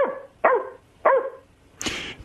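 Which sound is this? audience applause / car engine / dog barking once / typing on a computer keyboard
dog barking once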